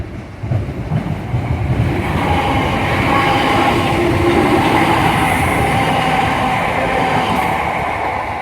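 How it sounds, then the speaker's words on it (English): A Class 319 train approaches on the line toward Liverpool Lime Street at Earlestown, a loud, steady rumble of wheels and carriages building and holding, with faint rail squeal and clatter. "we have a train approaching off to Liverpool Lime Street. It's a 319"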